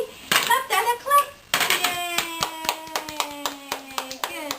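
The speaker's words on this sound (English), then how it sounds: "Clap your hands." Sharp hand claps ring out in a quick, uneven run at home for a baby girl, close and fairly loud, with a child's and adults' voices cheering before and between them.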